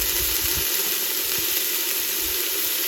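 Frozen chopped onion sizzles loudly in a hot Ninja Foodi 15-in-1 pot, a constant close hiss with faint soft bumps of stirring underneath and no voices.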